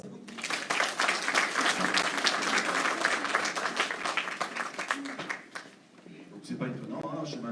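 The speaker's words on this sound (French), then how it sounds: "Oui, on applaudit." A conference audience at a psychic and wellness fair breaks into lively, full applause that swells and then dies down, with voices and murmuring rising near the end.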